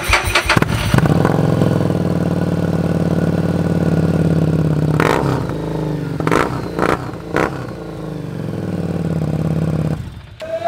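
A secondhand Harley-Davidson motorcycle engine cranks and fires, then settles into a loud, steady, rumbling idle with a few sharp throttle blips near the middle, close to the bike.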